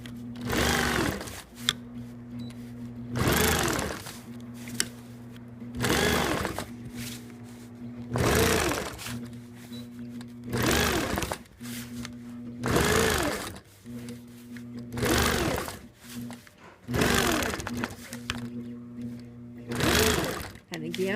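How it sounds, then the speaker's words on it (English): A sewing machine stitches a New York Beauty quilt unit in repeated short runs, each burst of rapid needle hum separated by brief pauses, close and clear, with a person speaking in the gaps. "so I'm just stitching down the dash."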